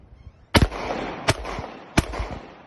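Three sharp, loud Glock pistol shots fired at a 20-yard target, spaced unevenly about three-quarters of a second apart, each with a brief echoing tail and no talk between them.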